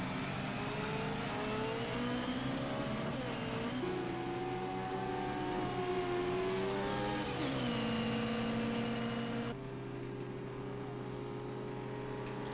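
A race car drives a lap of the Le Mans circuit, its engine a continuous high-pitched whine that rises and falls through gear changes and shifts, steady and close throughout with no voices.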